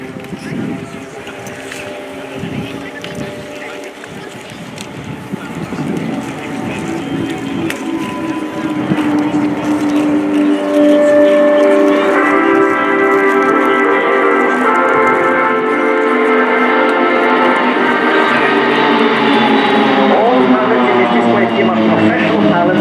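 A formation of Swiss Air Force Pilatus PC-7 turboprop trainers flies by at an airshow. A loud propeller drone builds steadily and holds, with tonal engine whine shifting in pitch as the aircraft pass.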